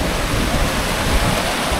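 Strong current of the Nambalan River in Mayantoc, Tarlac, a steady broadband rush of flowing water close by, continuous and even with no voices.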